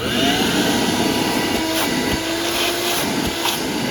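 A repaired shop vac with a new motor runs steadily at close range, giving a loud, continuous whine with a constant hum under it and a few faint knocks during the run.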